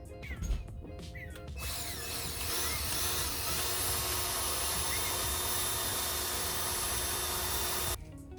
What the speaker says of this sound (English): we're gonna start drilling